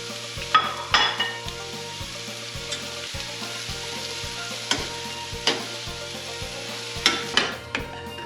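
Zucchini noodles fry with miso butter and garlic in a hot pan, a loud steady sizzle under repeated clattering stirs and scrapes of a utensil against the pan, with no talking.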